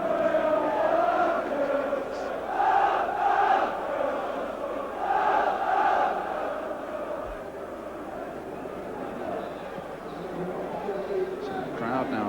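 A football crowd at Stamford Bridge murmurs and chatters through half-time of a Chelsea versus Manchester United match, a steady broad roar of many voices with swelling cheers, a commentator talking over it throughout.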